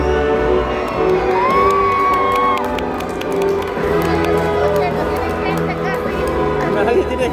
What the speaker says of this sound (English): My lord, hear your people cheer!